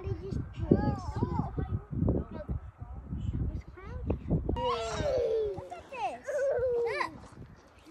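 A hound dog bays and yelps while chasing a coyote outdoors, loud howling calls rising and falling, with people talking over the barking.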